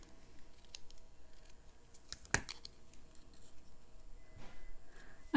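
Scissors snip apart gingham-patterned craft paper for rain-boot embellishments, a few crisp isolated cuts with one sharp louder snip near the middle, close and quiet with no talking.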